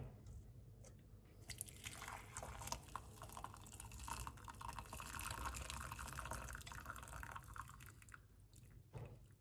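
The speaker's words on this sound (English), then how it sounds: "Turn off the heat and strain out the liquid." Boiled magenta plant-leaf dye liquid is strained out, a faint continuous trickling and splashing of pouring liquid with soft drips and rustling of wet leaves, alone with no talking.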